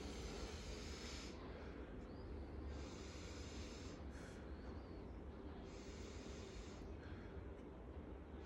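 A patient takes slow deep breaths during lung auscultation, heard through a stethoscope as three long airy inhale-exhale cycles over a constant low rumble.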